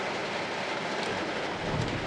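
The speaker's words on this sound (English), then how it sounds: "it's raining outside" Rain falls steadily outside, a dense, unbroken hiss of drops that holds an even, fairly loud wash the whole time, with a faint low rumble underneath.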